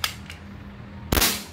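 A CO2-powered air shotgun with a CO2 inlet and an improperly seated valve o-ring fires, giving a few light pops and then one sharp, loud burst with a hissing release, close by.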